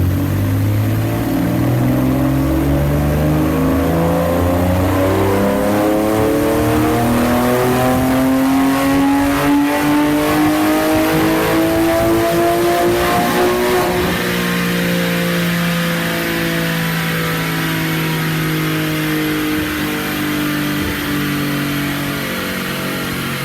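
A Porsche 996 flat-six fitted with an aftermarket cold air intake revs hard and loud, its pitch sweeping up through a long rise before dropping back to a steady high idle, with no talk over it.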